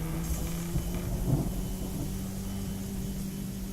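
A lightning strike in the adventure game Chaos on Deponia brings a low rolling thunder rumble that swells slightly, then holds steady over a faint background hum, with no talking.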